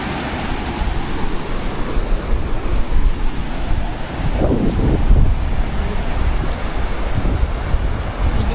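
Sea waves wash onto Napsan Beach, whose water is murky after heavy rain, in a continuous loud roar with gusts of wind buffeting the microphone and no voices.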